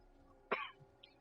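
A single sharp, close cough from a person with a cold, sounding alone against a quiet background, with a faint throaty tail after the burst.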